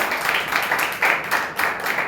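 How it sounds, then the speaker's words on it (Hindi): A church congregation claps together in praise, a loud rhythmic roll of hand claps rising and falling in waves. "ताली बजाकर प्रभु को मानो।"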